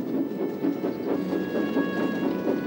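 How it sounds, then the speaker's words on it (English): A breakdown train rolls along railway tracks with a steady, rhythmic clatter and a faint tonal hum riding over the wheel noise. "Donald set off with the breakdown train"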